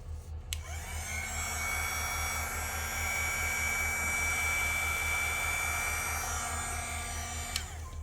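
A heat tool blows steadily over a layer of clear UV resin, a constant whooshing hum with a whine on top, starting abruptly and stopping near the end, with no talking.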